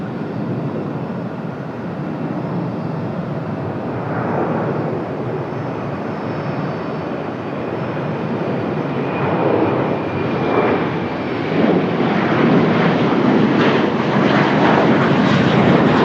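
Los Angeles-bound airliner on the runway at Raleigh-Durham airport, a loud, steady jet engine roar that builds slightly toward the end, heard from a distance with wind noise and no talk.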